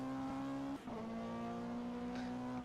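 A GT3 race car engine in rFactor 2 at Valencia drones loud and steady at high revs, dipping briefly at a gear change before holding its pitch again, with no talk.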